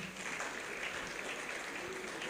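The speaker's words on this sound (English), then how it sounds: "A round of applause, ladies and gentlemen." Applause at an architects' institute annual general meeting, a faint, distant and steady wash of clapping from a large audience in a hall.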